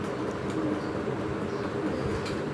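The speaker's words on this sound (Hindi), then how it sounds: "बड़ा ही नफीस कबूतर है ये" Pigeons coo steadily in a loft, a fancy high-quality breeding cock housed with a hen, the soft throaty calls blending into a constant close murmur of birds with faint chirps, no talking.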